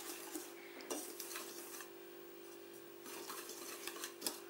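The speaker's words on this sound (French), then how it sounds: "On va mélanger avec le sucre roux, donc 100 g." Flour and brown sugar are mixed by hand in a bowl for carrot cake, giving faint, close scraping and occasional light clinks of the utensil against the bowl in a steady, quiet rhythm.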